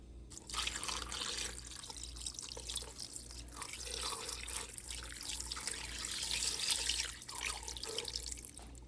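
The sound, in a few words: cup of water poured into a cooking pot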